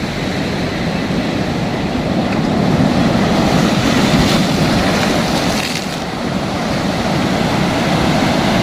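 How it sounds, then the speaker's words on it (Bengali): Loud, continuous rush of sea waves washing and splashing onto the shore close by at Patuartek beach, Cox's Bazar, Bangladesh, with wind buffeting the microphone. "ছিটকে আসছে পানি অর্থাৎ একদম আমার পায়ের গোড়ায়"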